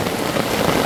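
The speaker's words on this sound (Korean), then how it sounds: "와 진짜 비 많이 온다" Heavy rain pounds steadily on a lowered tarp at a valley campsite, a loud, dense, continuous hiss and patter close overhead with no voices.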